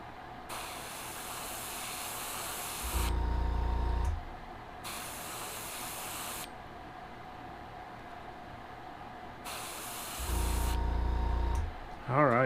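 An airbrush at about 18 psi spraying paint onto a lipless vibe crankbait, two steady hissing bursts of a few seconds each with quieter gaps between, close up.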